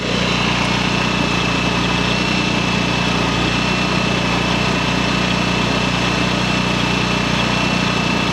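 A Champion 7000-watt inverter generator runs steadily at close range, a continuous loud engine drone with a constant mechanical hum and no variation across the stretch.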